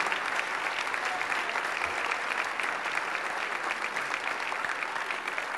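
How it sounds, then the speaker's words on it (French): Sustained audience applause fills a campaign launch event for Centraide Outaouais 2013, a steady dense wash of many hands clapping with no break, moderately loud throughout. "mesdames, messieurs, applaudissez votre cabinet de campagne 2013"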